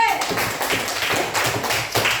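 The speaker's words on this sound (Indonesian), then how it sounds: "Tepuk tangan dulu untuk kelas B." A primary school class claps hands together in a classroom, a brisk, slightly uneven patter of many small hands that is loud and continuous for a couple of seconds.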